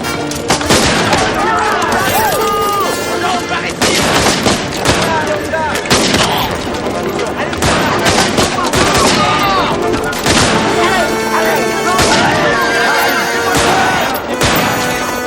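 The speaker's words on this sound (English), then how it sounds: "That was gunfire, a long way off." Rifle volleys crackle in repeated bursts from Baker rifles, a dense, loud stretch of overlapping shots and booms with an uneven rhythm that carries on without pause.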